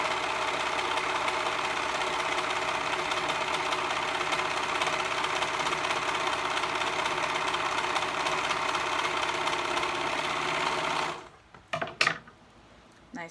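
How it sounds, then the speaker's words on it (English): A serger overlocker runs steadily and loudly, stitching a stretch fabric bow headband, a dense whirring hum for about eleven seconds before stopping abruptly into a few soft handling clicks. "I use a serger because the stretch will be much nicer."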